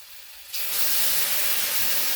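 Water poured into a pan of frying mustard-poppy paste sets off a sudden loud hiss of sizzling steam that holds steady after a quiet start.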